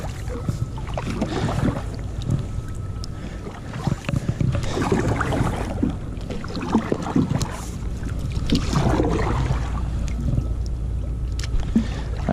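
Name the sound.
Ascend 12T kayak on water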